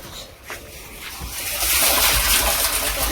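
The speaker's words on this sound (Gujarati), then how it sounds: "પાણી આવતું ચાલુ થયું થઈ ગયું" Water from a tap starts running and splashing, rising from a soft trickle into a louder, steady gush close by.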